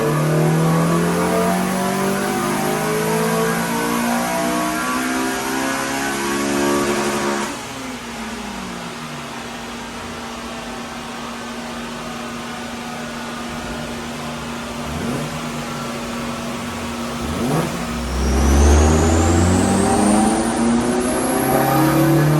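A Championship White Honda Civic FN2 Type R strapped to a dyno revs hard, engine pitch climbing and falling in repeated sweeps, then settling to a steady drone before another rising rev near the end.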